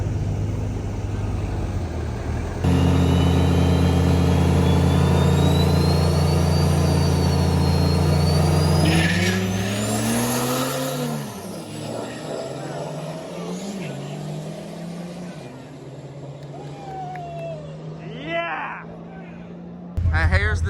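Trucks launch side by side in a drag race at an all-truck challenge event, a loud, sustained engine roar that climbs in pitch, then fades and drops away, with voices and crowd noise around it.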